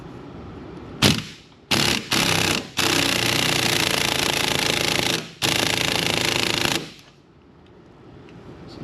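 Pneumatic impact wrench hammering on a front suspension bolt of a Chevy/GMC 1500-2500 truck during a front end rebuild, in several loud bursts, a short one, then long sustained rattling runs, no talk.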